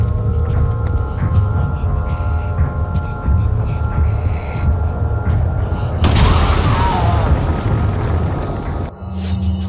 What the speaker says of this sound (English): Let's see if this explosion will do anything for him